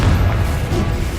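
Confringo blasting spell in Hogwarts Legacy, a dense booming burst of explosion noise, loud and sustained for about a second.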